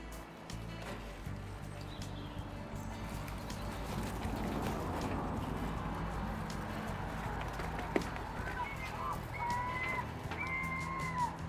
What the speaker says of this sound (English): Can you hear those seagulls?